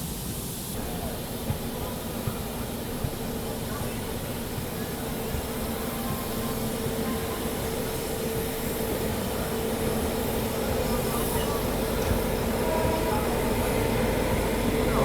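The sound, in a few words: Dehradun Subedarganj Express train passing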